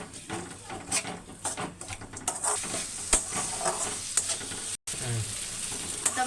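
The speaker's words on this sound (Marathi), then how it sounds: "तर आता मी इथे 2 मिनिटांसाठी डाळ अशीच परतून घेणार आहे" Red lentils are sautéed in a pan, giving a continuous close sizzle under repeated scraping and stirring strokes against the pan, with the sound cutting out briefly once before carrying on.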